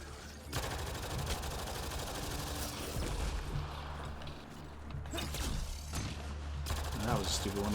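Gunshots in Mass Effect Andromeda on PC, a continuous clatter of weapon fire and mechanical game noise at moderate level, with a few sharper shots standing out, under faint background sound.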